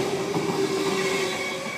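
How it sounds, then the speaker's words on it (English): A Sydney Trains Tangara electric train passes a platform at Clyde with a steady, loud roar, electric motor whine and a high sustained tone of wheels on rail, with no voices. "Got a Tangara passing platform 4, front 4 cars"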